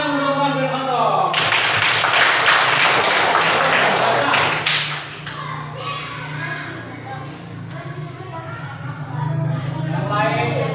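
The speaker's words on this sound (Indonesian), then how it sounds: "Semuanya tepuk tangan Umar bin Khattab." A group of children in a classroom clap together in a loud, busy burst that fades into scattered clapping and chatter, with an adult voice talking over it.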